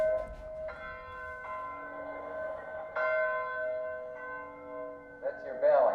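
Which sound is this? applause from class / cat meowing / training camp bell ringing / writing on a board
training camp bell ringing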